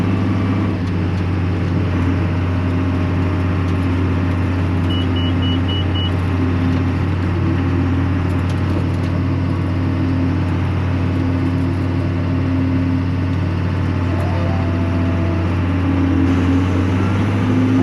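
A tractor engine on a farm, pulling at 2130 RPM while working windrows, holds a loud, steady low drone and rumble from start to finish with no pauses.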